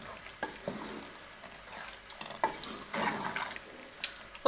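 A spoon stirs chana daal palak in a pot, with soft irregular scrapes and clinks over a faint sizzle, fairly quiet and close, with a louder knock at the very end.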